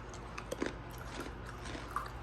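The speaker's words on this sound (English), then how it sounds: "Listen to that crunch." Someone bites into and chews a crunchy Guyanese coconut biscuit, making a few sharp close crunches followed by softer chewing.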